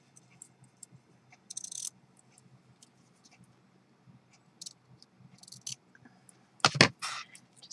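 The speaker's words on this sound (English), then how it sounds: "we're just going to cut a strip for the edge here of the tag" Scissors snip a strip of ribbon for the edge of a handmade tag, giving a few crisp close cuts. One sharp snip lands near the end among faint scattered clicks and rustles in a quiet room.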